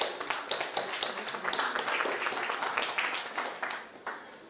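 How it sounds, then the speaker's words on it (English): A round of applause from attendees at a 1971 graduated batch alumni global meet, 2022, with scattered clapping and taps filling the room steadily for several seconds at moderate volume, no talk over it. "let's start with a big round of applause for all of us"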